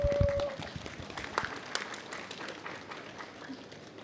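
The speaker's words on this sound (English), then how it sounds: "round of applause please" Audience applause at a COP17 Fossil of the Day award announcement in Durban, a modest, scattered round of clapping that starts after a brief noise and tapers off quietly.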